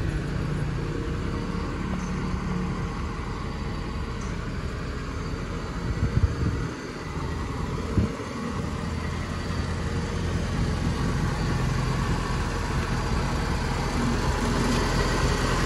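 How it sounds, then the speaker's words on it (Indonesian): A car's 1500 cc engine idles nearby with a steady low rumble throughout, broken only by a couple of brief dull knocks partway through, with no voices. "Ini kondisi mesin menyala."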